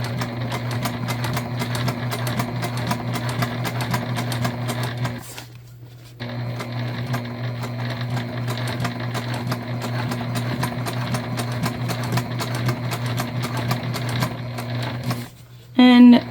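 A sewing machine stitching fabric for a book bag tote: a loud, rapid mechanical whir running steadily, stopping briefly twice before starting again.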